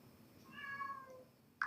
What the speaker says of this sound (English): That's my cat speaking.